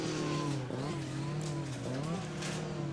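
Rally cars lap the Goodwood Motor Circuit, their engines droning close and loud with rising and falling revs, while a commentator talks over the noise.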